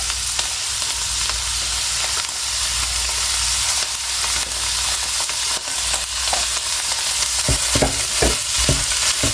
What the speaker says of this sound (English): I'm going to throw my rice in here now.